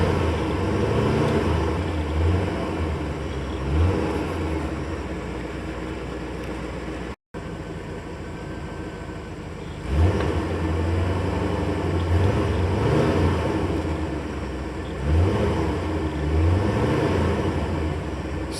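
A 1984 Corvette engine idles just after a cold start, a steady low rumble with periodic swells as it begins warming up, heard close by with no talking.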